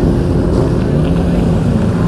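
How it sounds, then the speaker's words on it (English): Motorcycles pulling into a moto meetup in Georgia, a steady dense engine rumble with wind buffeting the microphone, continuous and fairly loud throughout. "There's so many fucking bikes and they're still coming in, dude."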